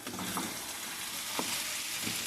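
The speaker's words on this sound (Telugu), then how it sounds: "మీరు ఇలా కలుపుకోవాలండి బాగానే" Chicken curry with salt being stirred in a pan, a steady low sizzle with a few soft scraping strokes, fairly faint and without talk.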